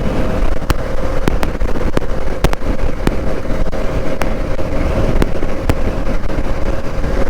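KTM RC390 and Duke 390 motorcycles ride together on a Sunday friendly drag run, one overtaking the other; steady engine roar with heavy wind rush runs throughout, loud and continuous with sharp clicks scattered through.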